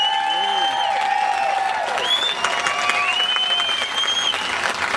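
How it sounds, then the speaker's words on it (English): A Tea Party rally crowd in the Sacramento area applauds Judge Moore with steady, dense clapping and a few whoops and shouts rising over it. "a big round of applause for the sacrifice and the work of Judge Moore."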